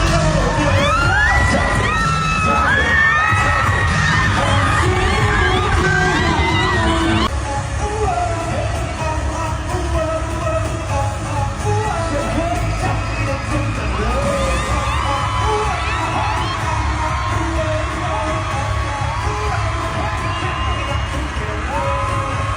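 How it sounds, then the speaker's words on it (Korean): A stadium crowd of some 60,000 fans screams at a concert in Tampa, a dense, loud, high-pitched roar of cheering that swells and dips throughout, with amplified sound underneath. "팬들은 그 순간을 놓치지 않으려 두 팔을 뻗으며 소리쳤습니다"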